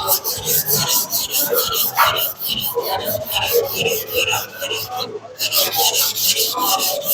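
A 250mm Takeda NAS gyuto knife is stroked by hand across a 320-grit whetstone, giving steady repeated scraping rubs close up, with a short pause near the middle.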